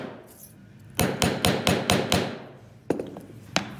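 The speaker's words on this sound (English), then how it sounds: "If it's not totally flat, you can also use a mallet." Mallet tapping a metal inlay flat: a quick run of six sharp, evenly spaced hits, a pause, then two more separate blows, close and loud.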